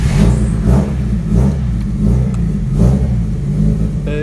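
A lowered Nissan S15 with a blown turbo gasket and missing bolts revs hard nearby, its loud engine rising and falling in about five rhythmic pulls with no talking.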